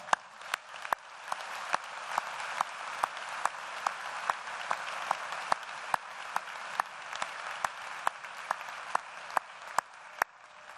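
An audience at a 2018 winter university commencement keeps up soft, distant applause, with individual sharp claps standing out at a steady rhythm over the quieter crowd.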